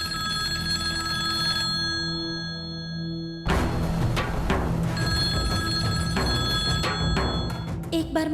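A telephone bell rings steadily in a domestic drama scene, clear and sustained at first. It then gives way to loud, clanging dramatic music stings.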